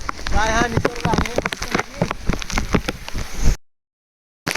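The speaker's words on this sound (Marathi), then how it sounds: "जोरदार पाऊस पडतोय" Heavy rain patters densely on surfaces nearby while people talk over it, then the sound cuts out briefly before resuming.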